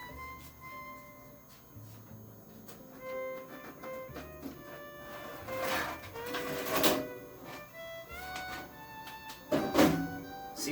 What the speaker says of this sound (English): there's a little tab you just pull on, and the whole front of the case just pulls forward